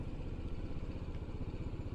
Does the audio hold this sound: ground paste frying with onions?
no